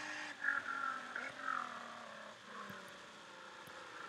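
Car engine from a modded Unturned video game, a moderate whirring drone that rises and falls with a few revs, fairly faint and steady, with no talking.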